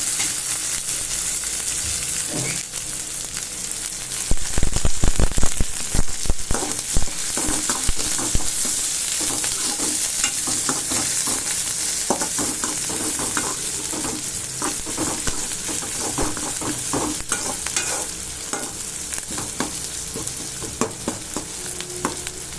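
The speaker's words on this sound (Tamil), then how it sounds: "இதோட நம்ம கருவேப்பிலையை போட்டுருவோம். கருவேப்பிலை போட்டு நல்லா வாசமாக இருக்கும்." Curry leaves and onions sizzle steadily in a pan for a chow chow kootu, with a louder crackling burst as the leaves go in and occasional stirring scrapes, no voices.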